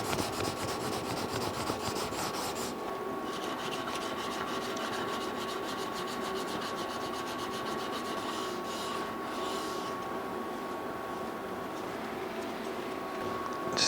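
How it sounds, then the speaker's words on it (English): Sandpaper rasps steadily across a carbon fiber bottle opener, a continuous close scratchy rubbing that barely changes across the whole stretch. "I don't really mind sanding the carbon fiber. It actually sands relatively easily and quick"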